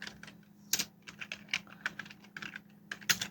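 Keywords typed on a computer keyboard in quick, uneven bursts of close, crisp key clicks with a few louder taps, alone and without talk.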